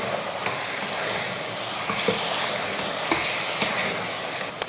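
In a pan, ground onion and tomato masala is stirred into mutton kulambu, giving a soft continuous sizzle with faint scraping and a few small knocks of the spoon against the pan.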